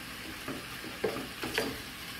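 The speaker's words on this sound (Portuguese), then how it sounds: "o nosso recheio já está refogado" Salt cod filling sautéing in a pan, a soft steady sizzle with a few light spoon scrapes and taps, close and quiet, no voices.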